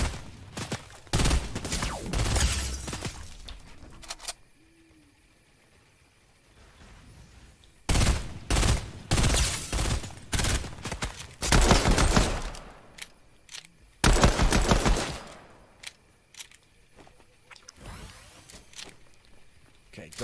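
Gold pistol fire in Fortnite, repeated loud shot bursts in clusters with short pauses and a quiet stretch in the middle, close and punchy, with a person talking in between.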